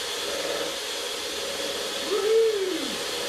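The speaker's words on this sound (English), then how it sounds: "what we need to do is whisk this until we've got peaks" An electric whisk beats lemon cake mixture toward stiff peaks with a steady, close whirring hiss, and a short rising-and-falling vocal whoop sounds near the end.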